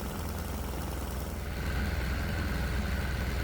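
A diesel engine runs steadily under load, a loud, dense low rumble with a broad roar above it that swells slightly about halfway through and holds alone with no voices.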